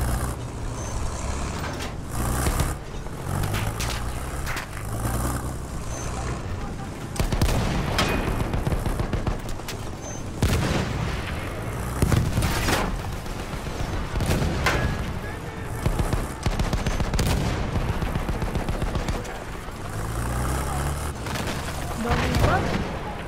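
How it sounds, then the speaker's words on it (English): A Battlefield 1 artillery barrage rumbles as a continuous, heavy wash of deep booms and distant blasts, with repeated thuds rolling through a dense battlefield din. "Enemy coordinates have been sent to our artillery."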